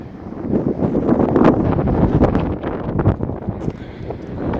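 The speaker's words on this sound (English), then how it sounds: "That wind is biting." Cold, biting wind gusts hard across a microphone outdoors beside a truck camper build, a loud continuous roar and buffet with no voices heard.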